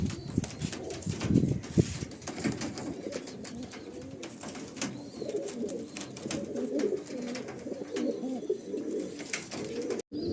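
Old tournament-quality pigeons, a blue-beaked pair kept in a loft, cooing in steady, overlapping low murmurs close by, with soft rustling and no talk.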